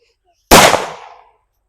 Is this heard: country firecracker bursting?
yes